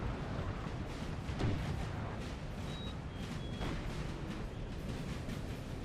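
Distant artillery cannon fire in a Napoleon: Total War battle, including a 5-pounder gun, heard as a dense, continuous rumble of booms with a few brief louder thuds, and no talking.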